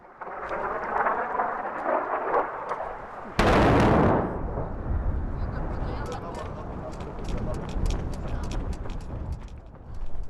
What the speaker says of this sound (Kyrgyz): Күндүн соңунда биз кетейин деп жатканда дагы эки чоң жарылуу болду.